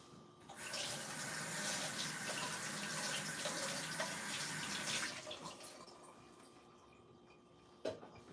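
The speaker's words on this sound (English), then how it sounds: "Let me rinse it off." Running tap water pours steadily into a sink as a food processor lid is rinsed, a close continuous splashing rush that stops after about five seconds, followed by faint drips and a small knock.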